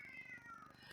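A cat meows close by in a continuous, rising-and-falling call that lasts about a second, fairly faint against the room.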